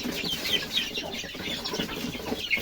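Free-range chickens cluck steadily while being fed, including a protective mother hen with small chicks, hatched naturally without an incubator; soft overlapping clucks and peeps fill the scene continuously at moderate distance.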